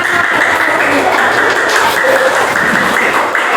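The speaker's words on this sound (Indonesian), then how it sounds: "Oke, tepuk tangan." Classroom of elementary school pupils clapping together, a dense continuous patter of many hands mixed with children's voices, loud and sustained throughout.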